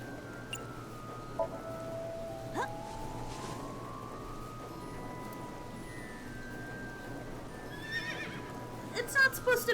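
In a video game, a horse-like whinny sounds when a panda ride is mounted: a faint, brief neigh over a quiet hum, with a few light clicks and tones scattered throughout.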